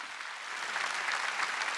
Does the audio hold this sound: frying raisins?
no